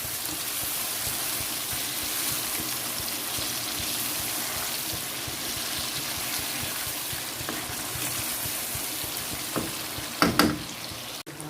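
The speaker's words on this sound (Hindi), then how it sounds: "ये आप देख रहे हैं बहुत अच्छे से फ्राई हो रहा है मेरा चिकन।" Chicken frying in desi ghee in a karahi, a steady, busy sizzle and crackle that holds level throughout, ending in a few sharp clatters, with no talking.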